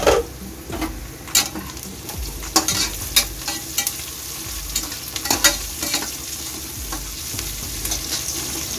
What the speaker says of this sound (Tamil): இப்போ ஆனியன் ஆட் பண்ணியாச்சு. ஆனியன் நல்லா வதங்கணும் இல்லம்மா.